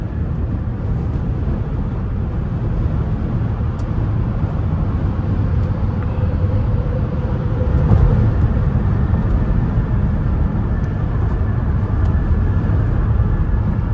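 A steady, broadband rush of wind noise fills the cabin of a driving Nissan Pathfinder SUV over a low road and engine hum, swelling slightly partway through; no one speaks.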